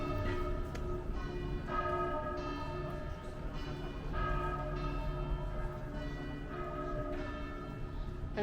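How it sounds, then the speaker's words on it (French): Church bells of Saint-Gildas church in Auray, Brittany, ring in a steady repeating pattern of overlapping bell strikes, heard from a moderate distance over a low outdoor background. "Alors ce que nous entendons, ce sont les cloches de l'église Saint-Gildas."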